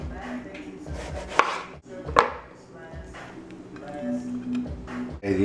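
Knife slicing tomatoes thin on a cutting board while preparing a turkey club: repeated light cuts with two sharper chops, close and fairly quiet, over low kitchen background noise.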